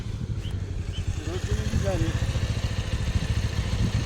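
A small motorcycle rides past on a hill road near Bagmati rural municipality, its engine a steady low pulsing drone throughout, joined by a brief human voice.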